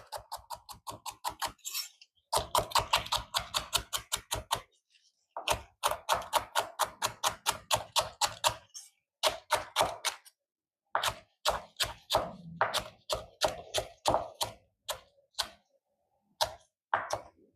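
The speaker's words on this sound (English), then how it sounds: "I'm gonna chop up this juicy big garlic stalk." A knife chopping a juicy, large garlic stalk on a board: rapid, rhythmic runs of sharp, close taps in quick bursts, separated by brief pauses, fairly quiet and with no talk over them.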